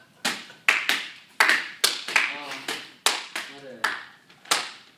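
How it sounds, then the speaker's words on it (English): Sparse, sharp hand claps come from a small group at a school interview skit, about ten separate claps in an uneven rhythm, with people talking between and over them. "a huge round of applause for Cheryl"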